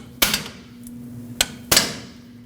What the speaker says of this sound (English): Set your pry bar right on that clamp and hit it with your hammer.